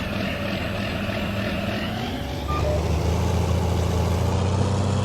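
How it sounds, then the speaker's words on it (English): An old tractor engine in Farming Simulator 19 drones and chugs continuously, a low rough idle that grows slightly louder and heavier halfway through, with no speech. "I love the way this tractor sounds."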